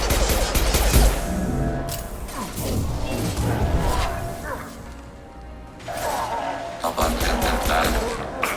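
Mass Effect 2 combat with bursts of rapid gunfire and crashing impacts, loud and dense, with short gaps and a quieter lull before the shooting resumes.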